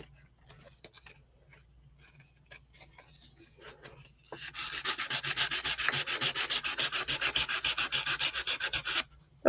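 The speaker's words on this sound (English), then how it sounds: "Oh my gosh, it sanded right off." Sandpaper rubbed briskly over a journal cover, a close rhythmic scratching of steady back-and-forth strokes that begins partway through after faint handling sounds and runs for several seconds, with no talk.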